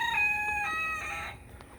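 Backyard flock of chickens, turkeys, ducks and geese, with a rooster crowing clearly in one long drawn-out call close by while hens cluck faintly beneath it.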